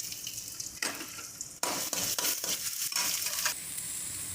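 Green chili, ginger and garlic sauté in a pan for a Palakkad-style chickpea curry, a steady close sizzle broken by a few sharp stirring scrapes, with a louder burst of frying partway through.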